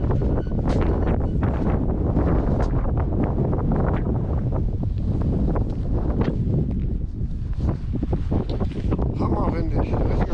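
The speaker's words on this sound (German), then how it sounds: "Hammerwindig, richtiger Sturm. Kein Wind mehr, der Sturm." Strong gusty storm wind roaring and buffeting the microphone in heavy bursts along the Rhine cycle route, continuous and loud, with a voice occasionally speaking underneath.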